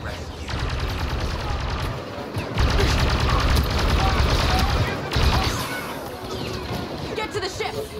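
Rapid blaster gunfire from a Star Wars Battlefront II battle, loud dense volleys running almost the whole time with heavier bursts, mixed with shouted voices and booming background rumble.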